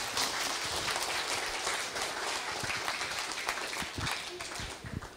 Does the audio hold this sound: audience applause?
yes